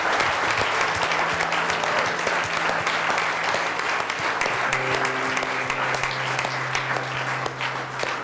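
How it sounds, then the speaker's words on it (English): Church congregation clapping at a Sunday morning service, sustained loud hand claps from many people with held tones from instruments or a sound system underneath, continuing strongly all the way through. "Give the Lord Jesus a great big hand clap this morning."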